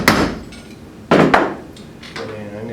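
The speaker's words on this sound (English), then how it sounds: "when the tone changes, that's the sign that the punch has actually hit the bottom." Hammer blows drive a punch into a broken bolt: three or four loud, sharp metallic impacts spaced unevenly, the later strikes ringing at a duller, changed pitch once the punch bottoms out.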